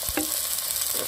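Onion frying in a pan over low heat while being stirred, a steady close sizzle with a couple of brief scraping strokes of the spoon.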